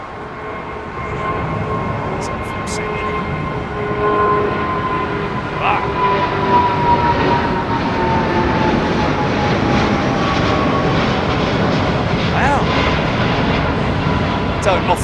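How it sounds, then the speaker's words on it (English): Rolls-Royce Trent 1000 jet engines on an Aeromexico airliner roaring in reverse thrust after landing on a Heathrow runway, a loud sustained broadband rumble with whining engine tones, steady throughout. "Don't often hear the Trent 1000s making that kind of racket"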